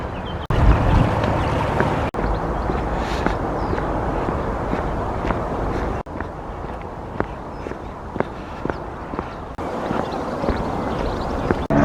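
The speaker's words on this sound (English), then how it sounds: "There's a boat coming behind, hidden behind this other boat" A boat motors past on a calm canal near Sawley Lock with a steady low rumble, footsteps and wind noise mixed in, no talking.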